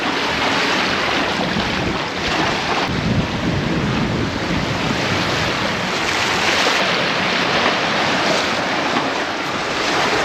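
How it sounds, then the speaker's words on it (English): Wind and waves while under sail in the Stockholm archipelago: steady, loud wind buffeting the microphone over continuous rushing water along the hull, close and unbroken for about ten seconds. "But the wind come now, or the wind came now, I should say."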